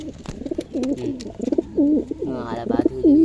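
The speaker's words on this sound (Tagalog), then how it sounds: "Kalapati ko dyan guys." Pigeon cooing in a new loft, a run of repeated throaty coos close by with soft rustling and a faint voice in the background.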